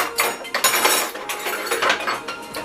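A spoon clinks and scrapes against a pan while smashed fingerling potatoes are roasted and prepared, a close series of irregular metallic taps and rattles with no talking.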